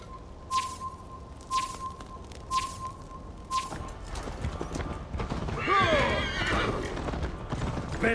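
Horse hooves clip-clop in a steady rhythm in Assassin's Creed Valhalla, with a distinct whinny partway through over ambient game sound, while a voice speaks briefly.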